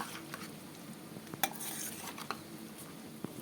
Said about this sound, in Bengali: বন্ধুরা দেখো মটনের আলু বসানো হয়েছে এখন মটনটা দেওয়া হবে